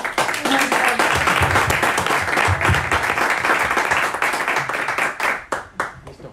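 Enthusiastic audience clapping at a Medellín vasectomy awareness ceremony honoring couples, a full dense round of applause that holds steady for several seconds, then thins into scattered individual claps as it fades out.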